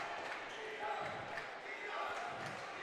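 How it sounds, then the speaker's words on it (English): A school basketball crowd of students chants and yells during a close game, a muffled roar of voices with a commentator talking over it. "You hear the crowd screaming D up."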